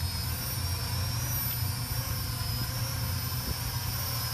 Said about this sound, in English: Still flies very nice despite being a all-in-one car and quadcopter.